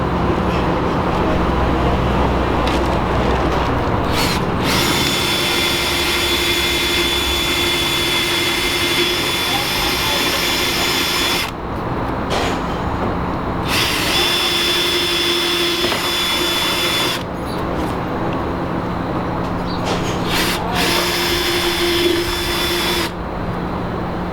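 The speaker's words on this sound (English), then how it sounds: "so basically once you drill the hole" A power drill bores out holes in a car body for rivnuts, whining loudly in several long sustained bursts separated by brief pauses. The drilling is close and goes on throughout.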